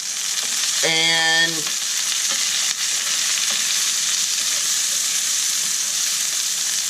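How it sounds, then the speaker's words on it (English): Caramelized risotto ingredients sizzle steadily in a hot pan while being stirred, a constant frying hiss throughout with a brief spoken word and a short tonal squeak early on. "We'll go ahead and stir this up"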